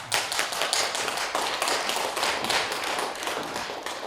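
An audience at a Buddhist dharma lecture in Gongju claps together, a brisk, steady patter of many hands lasting several seconds with no talk over it.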